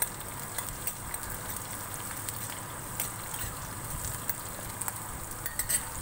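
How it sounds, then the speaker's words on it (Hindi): Green chilies frying in peanut oil for sabudana khichdi, a steady soft sizzle with faint crackles and occasional light scrapes of stirring. "मिर्ची अच्छे से भूननी है हमने"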